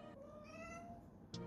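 A cat meows once, close and clear, in a drawn-out call ending with a short click.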